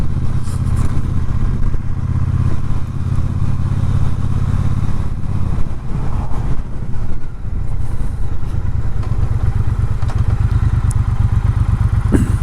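Triumph Speedmaster motorcycle on the move, its engine droning loud and steady throughout with some clatter and thumps from the road, no talking.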